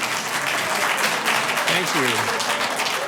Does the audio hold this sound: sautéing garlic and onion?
no